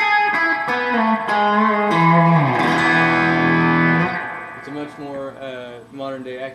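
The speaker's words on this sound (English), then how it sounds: "Modern-day Accutronics three-spring reverb kind of tightness action going on." An electric guitar played through a Gerlitz Revelator tube amp with its Accutronics three-spring reverb, sustained distorted notes and a bending chord that ring out with a tight, springy reverb tail, loud and close with no talking.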